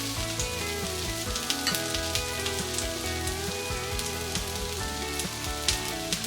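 Oil sizzles steadily under a ragi dosa in a hot pan, a dense continuous crackle with background music playing underneath.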